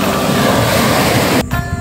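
Sea waves on a Gili Air beach beside a seawall, a loud continuous roar of surf and wind that cuts off abruptly near the end.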